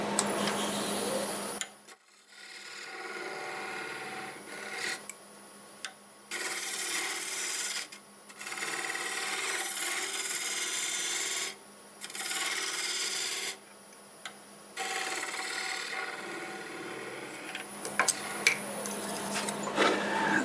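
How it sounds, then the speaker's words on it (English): Skew chisel cutting a wooden bowl spinning on a lathe, a continuous rasping, scraping whir that starts and stops in bursts with short silent pauses between cuts, close and steady, no voices. "I'm going to switch to this skew and just start using it to make it fit this template"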